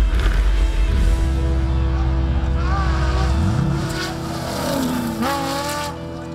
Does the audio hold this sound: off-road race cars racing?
yes